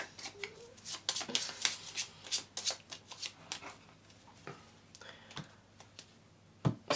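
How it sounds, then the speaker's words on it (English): A deck of board game cards for the family game Copenhagen being shuffled by hand, close and crisp, with quick riffling bursts and flicks at first, then scattered softer card taps and a final sharp snap. "And then you will shuffle the mermaid into these cards."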